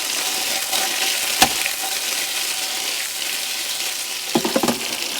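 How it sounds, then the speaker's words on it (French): Potatoes roast in a hot pan with a steady, even sizzle throughout, a sharp clatter near the start and a quick run of stirring knocks close to the end. "Il faut que les patates rôtissent et tu laisses griller"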